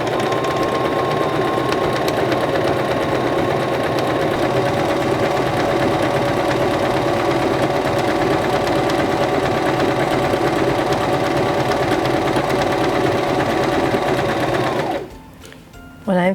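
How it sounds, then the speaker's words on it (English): SINGER Start 1304 sewing machine stitching fabric at steady speed, a continuous close whirring drone that runs evenly for about fifteen seconds, then stops abruptly, followed by a short clunk. "Placing our fabric underneath our presser foot, we'll lower our presser foot, press down on our foot control,"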